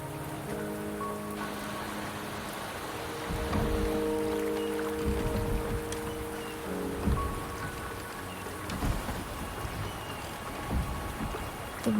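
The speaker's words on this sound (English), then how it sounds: "The rain is subsiding, and the sky will soon clear." Steady rain falls through a scene in the video game Wuthering Waves, a continuous hiss of drops with some surface patter, and low rumbling swells beneath it, with no talk.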